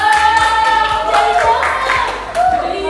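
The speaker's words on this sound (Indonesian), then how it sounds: "Beri tepuk tangan untuk ketiga tertinggi" Classroom applause for the three top-ranked students in an Indonesian school lesson, a dense patter of many hands clapping steadily and loudly for a few seconds over a faint background tone.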